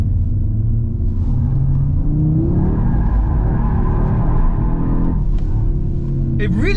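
An Audi RS3 Performance Edition drifting, its engine revving and rising in pitch under a heavy, constant rumble, with a sharp shift in tone near the end.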